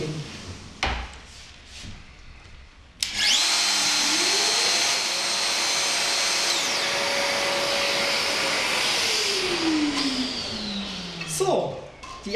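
A Festool saw with dust extraction cuts through clamped wood. The blade spins up with a sharp jump in loudness and whines steadily through the cut under the extractor's airy roar, then winds down near the end.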